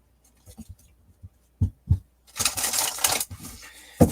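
A deck of oracle cards is shuffled, starting with a few light, separate taps and flicks, then a dense, loud riffle of cards lasting about a second, followed by a last snap.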